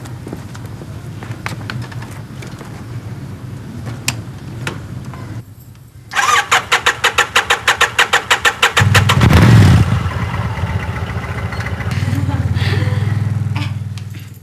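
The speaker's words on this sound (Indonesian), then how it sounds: "Kayak suara motor Angga." A motorcycle engine cranks with a rapid rhythmic chugging, catches, and settles into a running rumble that fades out; background clatter precedes it.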